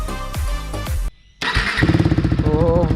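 A KTM motorcycle with an Akrapovic exhaust revving hard and loud up close, sharp throttle blips, a brief drop to near silence, then a rising, pulsing roar.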